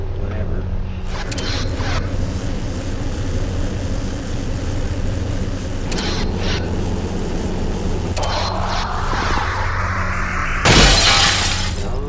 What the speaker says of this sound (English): Oh yeah, breaking the glass.